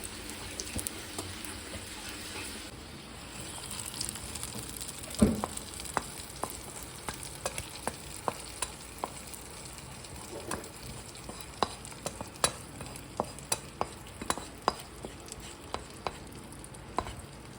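Ingredients stirred and frying in a pan for kichadi, a soft continuous sizzle with a scatter of small crisp pops and ladle scrapes that grow more frequent later, with one louder knock near the start.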